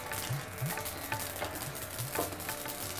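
Panch phoron spices frying in hot oil in a home kitchen, a steady crackling sizzle with soft rhythmic scrapes of a spatula stirring the pan, close and continuous.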